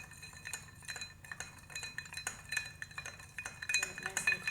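A bourbon old fashioned is stirred to chill it, with quiet metallic spoon and glass clinks ticking irregularly close by and no voices.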